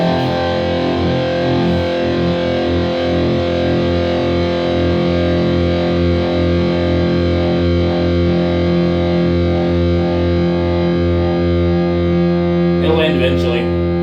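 An ESP LTD TE-200 electric guitar rings out one long, distorted sustained note that stays loud and steady throughout, with a brief brighter scratch near the end.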